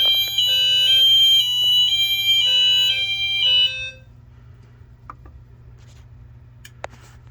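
A fire alarm on test sounds its Hi-Lo tone, alternating high and low pitches loudly for about four seconds before cutting off, followed by a few faint clicks in a quiet room.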